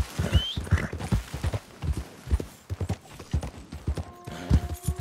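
Horse hooves clip-clopping in Red Dead Redemption 2, a quick steady run of close, loud hoofbeats across the whole stretch, with a short tonal game sound near the end.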